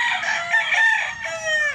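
An LDT gamefowl rooster, about five to six months old, crows loudly and close by in a single drawn-out call lasting nearly two seconds.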